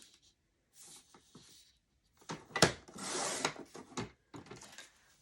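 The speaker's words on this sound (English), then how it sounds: "So get your paper cutter and cut 1 inch strips." Paper cutter trimming 1 inch paper strips: scattered quiet scrapes and rubbing slides with a few sharp ticks and a louder swishing pass midway, faint and intermittent with gaps of silence.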